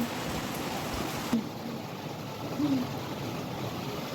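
Steady rainfall hissing down nearby, a dense continuous patter with a couple of slightly louder drops, no talking.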